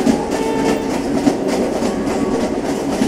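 Train running steadily in the Roblox game Jailbreak, a continuous rumbling rail roll with faint clickety-clack, close and even throughout with no talk.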